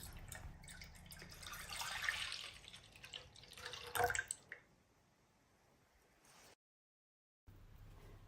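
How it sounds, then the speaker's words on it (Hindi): Half a litre of milk poured into a pan, a steady liquid splashing and trickling for several seconds that swells briefly, then tapers off into a faint drip before a short silence. "ये मैंने हाफ़ लीटर दूध लिया है। अब इसे एक पैन में डाल देंगे"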